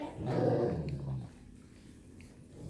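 A Cane Corso dog whimpers and grumbles close by in a short low whine that fades into quieter background noise.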